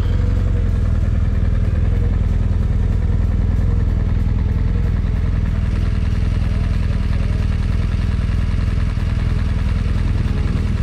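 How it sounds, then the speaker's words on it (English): BMW adventure motorcycle engine working hard on an off-road trail in Colorado, a loud steady close-up rumble and clatter throughout with no pauses or talk. "Keep going, give it lots of gas."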